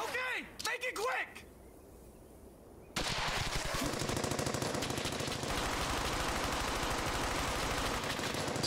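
Gunfire in the video game Brothers in Arms: Hell's Highway: after a quieter stretch with a voice, a loud, dense barrage of rapid automatic fire breaks out and keeps rattling steadily to the end.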